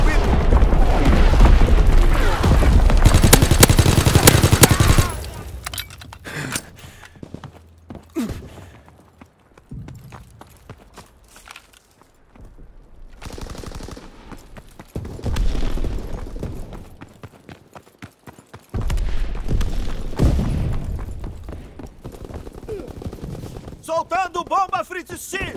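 Artillery barrage in Call of Duty WWII, with heavy booming blasts and rumbling impacts that come in loud waves separated by quieter stretches, mixed with bursts of gunfire and game sounds.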